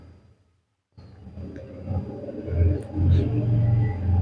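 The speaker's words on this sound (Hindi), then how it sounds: "गाड़ी लेकर जोन कवर करने चला जाता हूँ" A car in a battle royale mobile shooter drives off after a brief silence, its engine rumbling low and steady and growing louder over about three seconds, with no talk over it.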